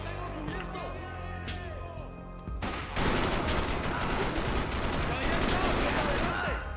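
Rapid pistol gunfire erupts in Max Payne 3, a loud, dense volley of close shots that keeps going over a steady background of game noise.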